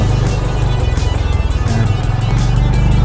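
A Yamaha PG1 motorcycle riding on sand at Dibut Bay, its engine droning loud and close with a steady pulsing low rumble and wind rush, no talk over it.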